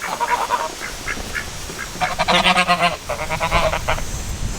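Geese and ducks gathered at a farm water tank honk and quack loudly and close by, in overlapping bursts with a dense cluster of calls near the middle.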